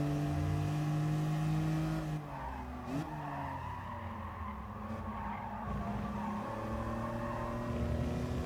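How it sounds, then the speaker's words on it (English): BMW M3 race cars lap the Bathurst circuit in the GT Sport racing game, engines droning and shifting pitch as tyres skid and squeal, with the engine note dropping mid-way before building again. "Everybody is in the BMW M3 for this race."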